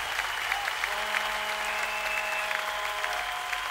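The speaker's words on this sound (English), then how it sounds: "Clap again to the glory of God. Clap again." A church congregation claps hands together in a steady, sustained wash of applause at moderate loudness, with a faint tonal hum underneath and no clear talking.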